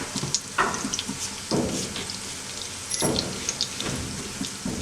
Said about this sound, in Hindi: क्योंकि हमें इन्हें शैलो फ्राई करना है, डार्क फ्राई नहीं करना